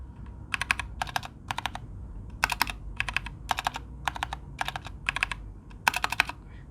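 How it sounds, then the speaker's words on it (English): Keys pressed on a Keychron K2 mechanical keyboard, about a dozen crisp clicky strokes in loose, irregular bursts, close and fairly quiet with no talking. "this is how it sounds like when you press this key"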